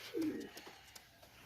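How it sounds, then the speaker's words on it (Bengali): Pakistani teddy pigeon giving a single soft low coo, close and quiet, followed by faint background rustle. "দেখেন দম টম সব বন্ধ দমের কবুতর।"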